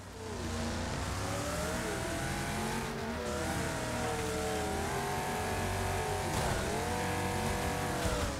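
Race cars roar and rev in the demolition racing game Wreckfest on Xbox Series X. Engine tones rise and fall continuously at close range, with occasional tire noise and no talking.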